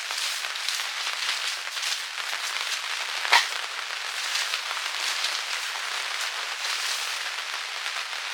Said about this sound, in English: It is proper raining now.